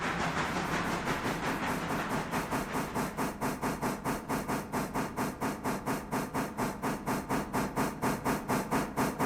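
Steam locomotive engine in the video game Railroader, chuffing in a steady, even rhythm of sharp exhaust beats that starts loose and settles into a regular, close, loud cadence.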